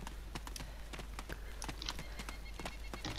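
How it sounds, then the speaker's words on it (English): A cow being kicked repeatedly in the DayZ video game, a quick series of dull, hollow thuds in an irregular rhythm, close and clear over a low background hum. "Stop kicking that cow"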